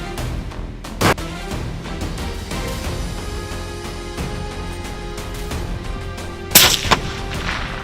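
Rifle gunshots on a bear hunt in Kamchatka, heard as two sharp, loud cracks about five seconds apart, the second followed by a quick echoing tail, over a steady musical background with no speech.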